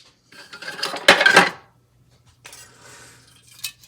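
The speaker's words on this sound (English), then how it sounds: "just mix these together a little bit." White and brown sugar are stirred together in a bowl, a spoon scraping and clinking against the sides in a short burst, then quieter rubbing strokes after a pause.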